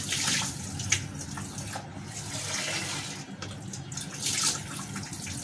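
Lentils (dal) being rinsed in water, a steady splashing and sloshing with brief trickling swells, close by and moderately loud, with no talking.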